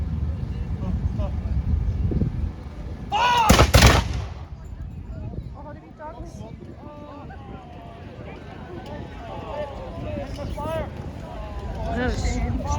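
A musket volley fired by troops at a Scotland versus England battle re-enactment bursts out as one loud, sharp crack that rings briefly before fading, among murmuring crowd noise and talking voices.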